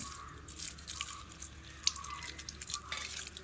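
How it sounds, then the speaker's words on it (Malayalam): Water is poured onto a freshly replanted ground orchid in ash-dressed soil. It makes a faint, close, steady trickle with small splashes and drips, and no one speaks. "കുറച്ച് വെള്ളവും കൂടി അതിന് ഒഴിച്ച് കൊടുക്കാമെന്ന് കരുതിയാണ്"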